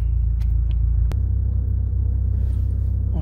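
A 1998 Nissan 240SX S14 engine fires up with a brief sharp catch, then settles into a steady, close, low idle rumble with no talk over it.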